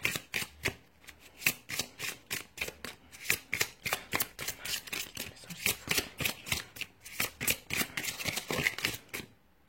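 Tarot-style cards are shuffled by hand in rapid, repeated bursts of crisp riffling and snapping, close and clear, in an even rhythm throughout with no talking.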